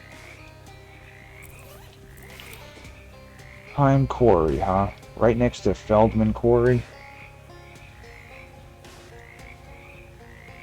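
Talking frogs in the video game Shadows Over Loathing give a run of loud, guttural croaks and belching gurgles in quick bursts, with a voice speaking briefly before and after.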